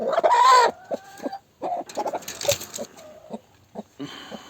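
A broody hen clucks in short, uneven bursts, fairly close, with a few louder squawky notes and brief pauses between calls.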